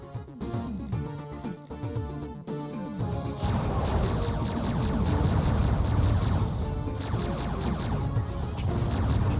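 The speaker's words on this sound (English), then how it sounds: "It is the sound of a driller." Sharp clanking crashes and a grinding mechanical whir from a driller enemy robot in the Descent video game, dense and loud throughout, swelling into a continuous clattering roar after the first few seconds with no voices.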